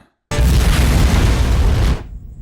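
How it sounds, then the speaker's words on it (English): Bomb explosion in an online video game, a single loud, sudden blast that holds as a dense roar for under two seconds before cutting off, with no talking. "to instead throw a bomb at them!"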